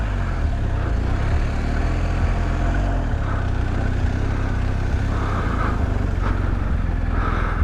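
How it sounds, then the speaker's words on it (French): A lowered BMW R1250 GS motorcycle rides through sand in Morocco, its engine droning steadily and loud the whole time under rushing wind, with no talk. "je suis parti pour essayer une R1250 GS rabaissée dans le sable"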